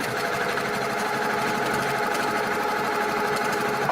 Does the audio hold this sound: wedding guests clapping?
no